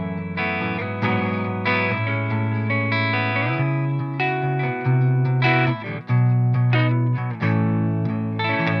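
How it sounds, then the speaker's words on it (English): Warm electric guitar tone from a Les Paul played on the neck pickup with the tone knob rolled back slightly, sustained chords and melodic lines ringing steadily with a touch of effects and reverb, no talking. "say you put on the neck there, you roll off just the tone a little bit, you get these really nice kind of warm tones out of the Les Paul"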